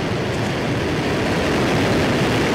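A SpaceX Falcon 1 rocket lifts off with a dense, continuous broadband roar that holds loud and steady throughout.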